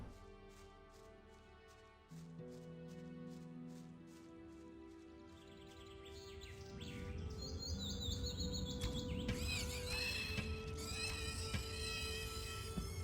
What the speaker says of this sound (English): Chirp, chirp, chirp.